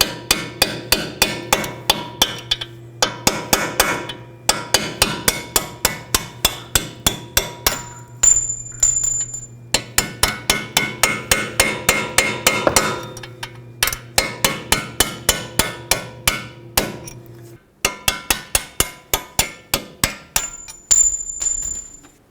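Rapid, loud metallic hammer strikes driving bolts out of the front strut on a 2007-2009 Saturn Aura, coming in fast rhythmic bursts of many blows with short pauses between them.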